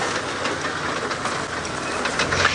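Safari vehicle on a live sunset drive, bouncing off the road through the African bush: a loud, continuous engine and rattling chassis rumble with dense clattering, close and unbroken, without talk.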